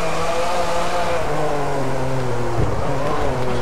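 A Ferrari F50 engine roars steadily at high revs in the game Driveclub, a continuous aggressive drone with shifting tones, loud and close throughout.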